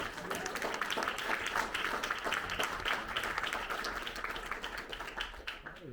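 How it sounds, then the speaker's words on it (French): Conference audience applause follows a pastor's address on freedom and Ukraine: many hands clap in a busy, continuous patter that stays fairly steady and tapers off at the end. "Voilà des applaudissements."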